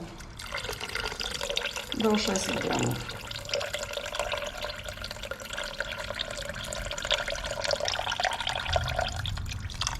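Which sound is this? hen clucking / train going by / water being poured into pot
water being poured into pot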